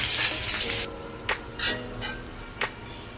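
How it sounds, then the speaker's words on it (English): Green chilies, haldi and hing drop into okra frying in a pan for dhaba-style Punjabi bhindi masala, giving a soft steady sizzle with a louder hiss at the start and a few light scrapes and clinks after. "Okay, as they are now roasted, we'll add the green chilies, haldi, and hing."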